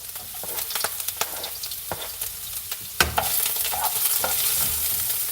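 Onion sizzles and crackles steadily in hot oil, with occasional stirring clatters; the frying grows louder and denser after a sharp knock.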